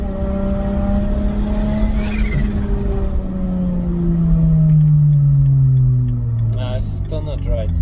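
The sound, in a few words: BMW 335i single turbo engine revving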